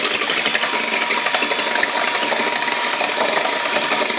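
An electric beater whirs steadily as it whisks eggs and sugar for a chocolate sponge cake, a close, continuous motor buzz with a light rattle and no pauses.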